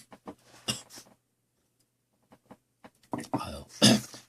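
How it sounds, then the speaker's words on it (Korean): A man giving a Korean lecture on tithing coughs several times, sharp, close bursts in two clusters separated by a quiet gap, some harsh and throat-clearing in character. "기침이 나오네요."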